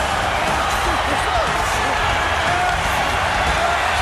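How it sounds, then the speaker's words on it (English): A dense, continuous roar of a large video game wrestling arena crowd cheering, with a commentator's voice talking over it. "listen to this capacity crowd coming to their feet almost"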